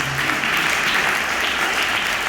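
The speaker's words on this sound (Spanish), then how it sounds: "Denle un aplauso al Señor Jesucristo, hermanos." Church congregation applauding during a sermon: a dense, even roar of many hands clapping, loud and sustained without pause.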